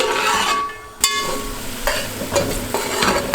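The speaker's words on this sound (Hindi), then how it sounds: "इसमें ये ऑयल जाएगा और ये जो प्याज है ये अब इस टाइम पे हम इसमें डाल देंगे।" Sliced onions sizzle and crackle loudly in hot oil for chicken biryani, a continuous close fry broken by a sharp clack of the pan and scraping stirs throughout.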